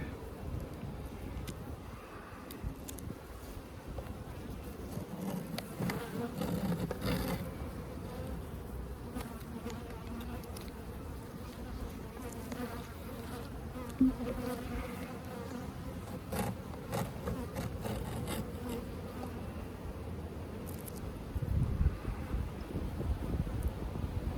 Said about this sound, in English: Gonna have a lot of new baby or young bees.